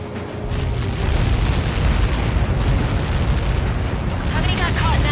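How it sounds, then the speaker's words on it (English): A massive Helios projectile blast erupts in Ace Combat 7 during a mission at the Lighthouse, a loud sustained roaring rumble that swells and holds for several seconds. "How many got caught in that explosion?"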